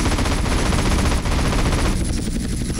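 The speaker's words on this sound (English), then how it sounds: "I'm firing my guns. Going straight, firing the guns." Plane-mounted machine guns firing in GTA San Andreas flight school: a loud, continuous rattle of rapid shots over a droning aircraft engine, with no talking.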